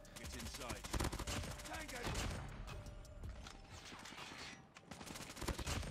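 An AS Val rifle in Call of Duty Mobile fires long, dense automatic bursts, loud and continuous with a short lull near the end, while a voice talks throughout.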